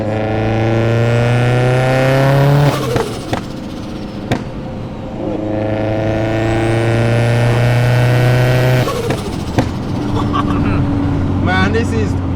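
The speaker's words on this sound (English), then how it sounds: "Give you guys some turbo noises." A turbocharged 500 hp Vauxhall Astra VXR revs hard twice, each pull climbing to a rising whine and ending in sharp turbo flutter and pops. It is close and loud, with a short blip between the pulls and a lower engine note afterwards.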